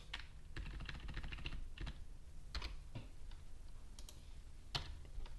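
Code is typed on a computer keyboard for an ESP32 web server project, a quiet, close, irregular run of key clicks with small pauses between bursts.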